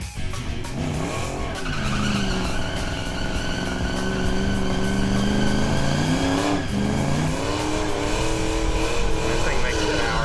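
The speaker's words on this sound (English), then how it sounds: "All right, let's see this burnout." A Fox body drag race car does a loud, sustained burnout at a drag racing event, its engine roaring with rising and falling revs over continuous tire squeal and skidding, with announcers talking over it.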